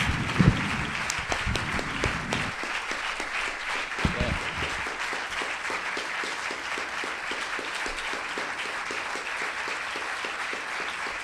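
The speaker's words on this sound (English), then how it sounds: "What about giving some applause to him?" Sustained audience applause for a speaker at an academic event, a dense, steady wash of many clapping hands holding at an even level for about eleven seconds, with a few louder claps standing out near the start.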